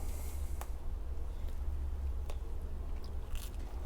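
Biting and chewing homemade herb and cheese focaccia bread, close-up with a few soft crunchy bites over a low steady rumble, no talking.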